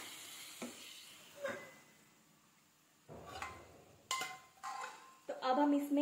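Boiled eggplant is stirred into a frying masala in a pan, with intermittent scraping and clanks of a spoon over a faint sizzle, separated by quieter gaps.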